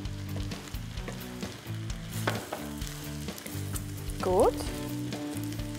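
Shredded cabbage frying in a pan with a teaspoon of apple cider vinegar and a small knob of butter, a steady close sizzle with stirring, while voices talk over it and a brief squeak rises near the end.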